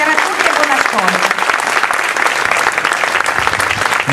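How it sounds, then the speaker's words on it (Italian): Loud, steady applause from a concert audience at the San Bartolomeo 2020 concert by the Portacomaro town band, dense clapping sustained for the full few seconds with a hint of voices underneath. "ti meriti un altro grande applauso"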